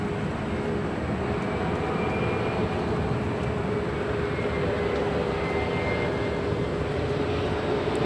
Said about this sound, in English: And this is Delta Connection SkyWest 3769. It is a flight from Oakland, California